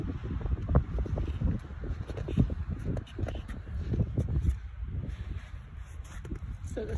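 Steady gusty wind rushes across a chilly mountain pass on a snowy trail hike, a low continuous roar rising and falling with gusts, fairly faint and distant throughout.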